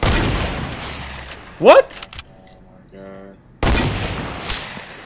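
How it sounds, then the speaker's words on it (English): Gunfire in a trickshot shooter video game, a few sharp bursts with a rising whoosh, brief electronic tones, then a loud noisy burst resuming, while a voice briefly speaks. "Oh, I just jumped over this dude's bullet."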